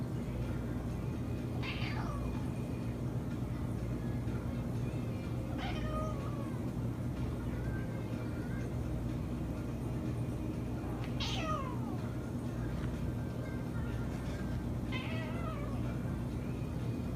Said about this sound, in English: it's just a cat meowing obsessively